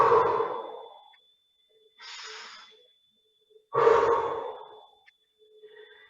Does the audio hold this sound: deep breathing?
yes